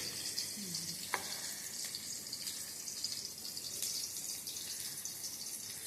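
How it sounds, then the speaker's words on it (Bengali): Steady, bright sizzling of pointed gourd frying in hot oil, a continuous crackling hiss with no talking. "পটল ভাজা হচ্ছে"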